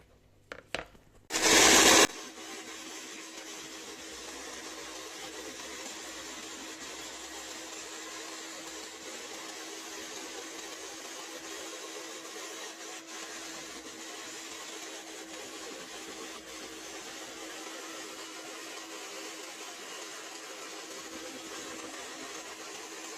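A steady electric mixer or blender churns homemade Moroccan black seed soap with glycerin, a continuous even whir running alone after a couple of brief clicks and a short loud burst at the start.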